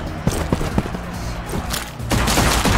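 Gunfire in the Security Breach DLC of the ShowGunners video game, a run of sharp, loud shots in an uneven rhythm with low thumps, ending in a denser burst of fire.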